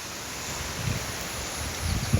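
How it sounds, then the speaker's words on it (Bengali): Strong wind rushing through garden plants, a steady broad hiss with low gusty buffeting against the microphone that swells near the end, close and continuous. "দেখুন প্রচুর বাতাস হচ্ছে কিন্তু বন্ধুরা।"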